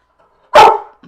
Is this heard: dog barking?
yes